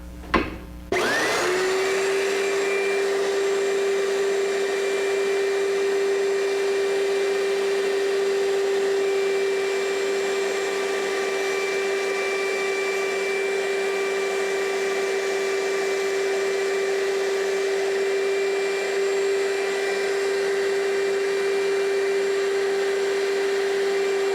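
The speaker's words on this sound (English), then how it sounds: "Now in order to make the mortises to receive the ebony inlay, I'm going to use my horizontal mortiser." A horizontal mortiser cuts mortises in wooden picture frame parts to take ebony inlay, starting with a sharp click then settling into a loud, steady motor whine that drones on for the whole stretch.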